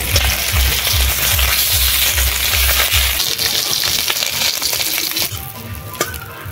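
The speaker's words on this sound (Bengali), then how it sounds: "তেল গরম হয়ে গেছে, প্রথমে লেজাগুলো ভাজবো।" Fish tails frying in hot oil in a wok, a loud steady sizzle with crackling spatter and stirring scrapes, close and continuous with no talk.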